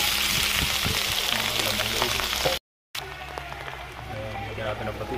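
Ginger, garlic and onion sizzle in oil in a frying pan, a loud, steady crackle broken by a brief silence, with a person talking over the frying.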